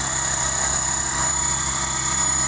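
R/C helicopter hovering nearby, a constant high whine of motor and rotor with a steady low hum beneath, unbroken and close.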